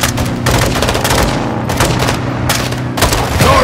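Dense gunfire and heavy booming blasts from a rocket launcher in a Call of Duty: Modern Warfare 2 battle, a continuous loud barrage with repeated explosive bursts and no pauses.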